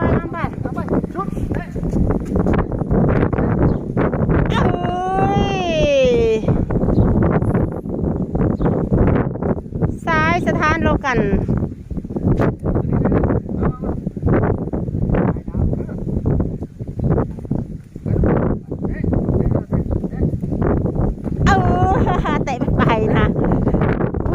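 Outdoor wind buffets the microphone in a constant rough rumble while a mother and daughter kick a ball around, with voices talking and calling over the noise.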